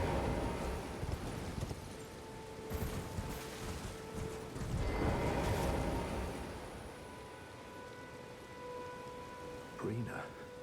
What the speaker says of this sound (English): Can ride our horse again.